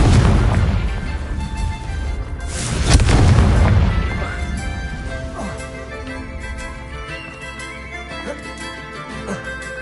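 A Confringo blasting spell explodes in Hogwarts Legacy, a loud deep boom swelling around the third second and rumbling away over the following seconds amid game sound.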